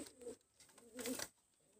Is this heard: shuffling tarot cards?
no